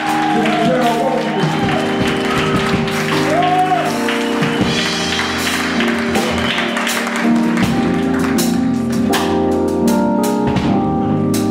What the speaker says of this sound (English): I want you to clap your hands and make a whole lot of noise